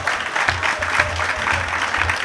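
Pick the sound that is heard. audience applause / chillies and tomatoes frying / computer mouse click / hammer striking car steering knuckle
audience applause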